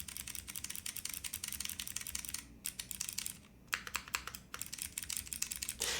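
Steady clicky-switch typing on an F1-8X keyboard, dense rapid keystrokes with a brief pause midway, close and fairly quiet with no talking.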